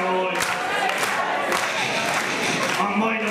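Talent show audience at a finale singing along and shouting together, a dense crowd roar of mixed voices with occasional thumps, loud and continuous.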